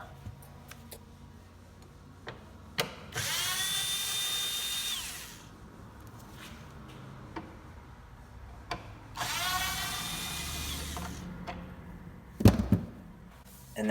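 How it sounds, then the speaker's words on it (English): Two short bursts of a power screwdriver backing out Phillips screws from under the liftgate of a 2017 Honda CR-V tail light, each whirring for about two seconds, close and fairly loud, with small clicks and handling noises between them. "Start out by removing these two Phillips screws that are underneath the liftgate."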